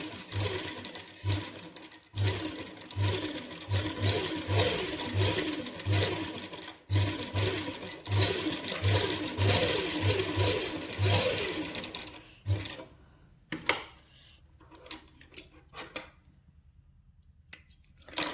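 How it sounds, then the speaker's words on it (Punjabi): A sewing machine runs a seam along the neckline of a suit beside buckram, giving loud, rhythmic bursts of stitching for about twelve seconds. Quieter fabric handling and clicks follow. "ਬੁਕਰਮ ਦੇ ਨਾਲ ਨਾਲ ਇੱਕ ਸੀਨ ਇਸ ਤਰ੍ਹਾਂ ਟਪਾ ਲਾਂਗੇ ਸਿੰਪਲੀ ਸੀਨ ਕੱਢਾਂਗੇ"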